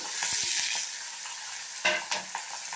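Green chilies and shallots fry for tempering in a pan for Kongu-style paruppu kuzhambu, giving a steady close sizzle with a few sharp spatters and stirring clinks near the end, and no voices.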